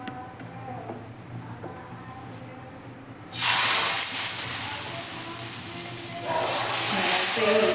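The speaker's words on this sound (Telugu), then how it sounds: "దోశ అయితే వేస్తున్నాను చూడండి" Dosa batter hits a hot griddle pan with a sudden loud, bright sizzle that holds steady and then surges again. Before it, a quiet kitchen hum and faint clinks.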